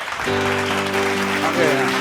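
A congregation claps together at a Tamil Sunday church service, a dense and steady wash of applause heard close and loud, with a sustained voiced tone running over it.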